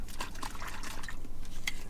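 Cold coconut water pouring or sloshing outdoors on a hot day, a short series of soft liquid splashes and trickles at moderate level with no speech.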